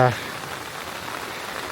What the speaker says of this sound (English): like I say, constant rain.